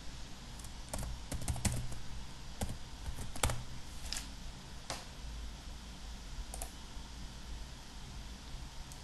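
A file name is typed on a computer keyboard in quick, uneven bursts of close, crisp key clicks over faint background hiss, with no one speaking.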